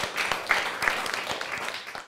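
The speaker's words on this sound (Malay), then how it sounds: "Okey, beri tepukan kepada kumpulan empat." Classroom applause for a student group during a secondary-school history lesson, a steady patter of scattered clapping from a modest group of pupils at moderate level, lasting about two seconds without talk over it.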